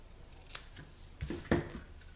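Scissors snip the ribbon tails on a handmade paper card at a tabletop, giving a couple of short, close, crisp cuts in a quiet room, with no talking.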